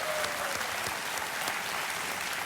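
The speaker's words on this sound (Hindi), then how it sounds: "इनके लिए मैं चाहता हूं कि एक बार जोरदार तालियां बज जाए" A crowd claps steadily and enthusiastically, dense applause sustained throughout at an even volume.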